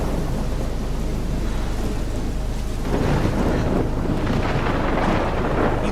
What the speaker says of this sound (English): There's a big ass storm over there.